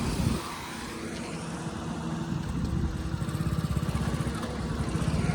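A motorbike engine drones close by with a rough, pulsing rumble on a rainy road near Palanpur. The sound grows steadily louder as the bike passes.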